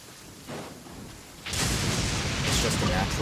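Steady rain in Genshin Impact, starting soft and then swelling into a loud, dense downpour hiss that fills the scene, with a faint low rumble behind it.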